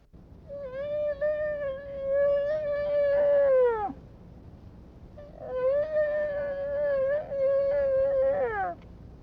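A moose calls in two long, drawn-out, whining moans, each rising into a wavering tone and ending with a sharp downward break, fairly close and alone with no talk.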